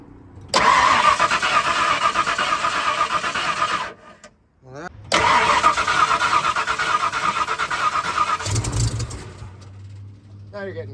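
A 1964 Ford F100 engine cranks over loudly and close by in two long bursts with a brief pause between, then catches and settles into a low idle, while people talk.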